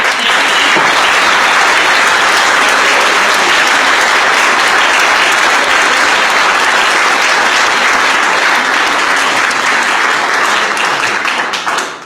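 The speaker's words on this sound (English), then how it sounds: "So if we could all please give a round of applause for Drew." Sustained applause from an audience at a service award ceremony, loud and dense for about twelve seconds before tapering off at the end.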